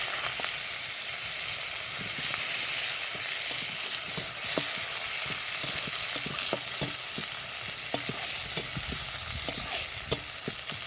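Onion and black cumin fry in oil with a constant, even sizzle, punctuated by soft clicks from stirring.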